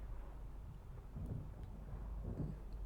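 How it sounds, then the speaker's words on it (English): Thunder from a storm in the video game Far: Changing Tides rumbles low and faint, a soft rolling swell that rises and falls with no voices. "Was that just the thunder and lightning,"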